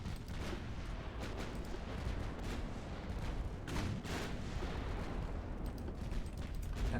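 Naval guns firing in the Ultimate Admiral Dreadnoughts warship battle game, a continuous rumble of distant booms with several sharper blasts standing out, fairly faint.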